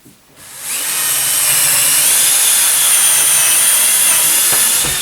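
A power drill with a brad point bit whines at high pitch as it bores through wood, starting after a brief pause and running steadily, loud and close.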